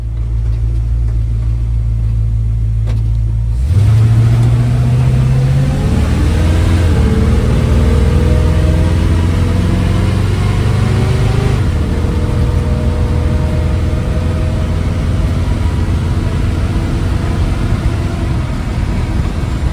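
Car on a road test after a distributor gear change, its engine droning loud and steady as it pulls through gear changes with rising revs, continuous road rumble underneath throughout.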